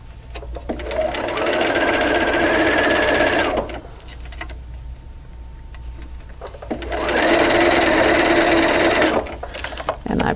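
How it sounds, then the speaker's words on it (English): A sewing machine stitches quilt pieces together for a double wedding ring quilt, running in two steady, close, loud bursts separated by a quiet pause. "I'm going to start sewing"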